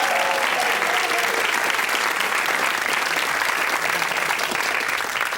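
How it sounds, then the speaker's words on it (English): The studio audience of the 1992 TV quiz show Blockbusters breaks into sustained applause, a thick, even wash of clapping that holds at full strength from start to finish. "a round of applause, please."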